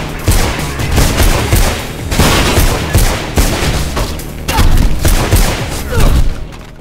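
Gunfire in the video game Mirror's Edge comes as loud, dense bursts of shots and booms that roll on almost without break, with faint talk partly buried underneath.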